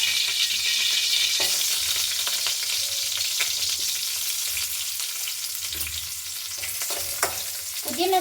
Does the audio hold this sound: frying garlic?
yes